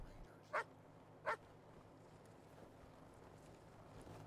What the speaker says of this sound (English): There's a dog over there.